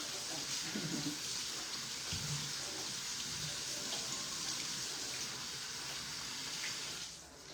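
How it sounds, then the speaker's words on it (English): Rice is rinsed under a running kitchen tap, producing a steady, close rush of water with faint splashing shifts as the grains are swirled, holding constant before tapering off at the end; no one speaks. "Let me rinse my rice."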